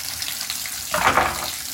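Water gushes from a Kohler bathtub faucet just after a repaired stem cartridge, starting softly and swelling into a steady splashing flow about halfway through, close by with no talking.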